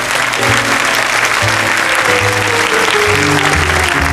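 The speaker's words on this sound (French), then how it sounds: "on applaudit très fort Philippe" A loud, dense wall of studio audience applause on a 1977 French children's singing television show, sustained and even, with faint tonal music-like sustained notes running underneath.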